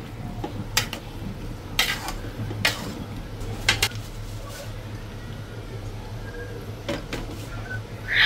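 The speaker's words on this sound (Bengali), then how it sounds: "চালটা আর মাংসটা এখন ভালো করে মিক্স করে নেব।" A spoon clinks and scrapes against a pot as rice and chicken are stirred together for a chicken biryani, giving a handful of sharp, irregular metallic taps over a low steady kitchen hum.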